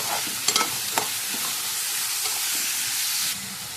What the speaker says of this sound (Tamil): தக்காளியை போட்டு நல்லா வதக்கிடுவோம்.